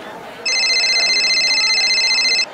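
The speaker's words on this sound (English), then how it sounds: "Oh, my phone's ringing." A phone rings in an animated toy-pet episode: a loud, steady electronic trill with a rapid, fluttering pulse sounds for about two seconds against a quiet background.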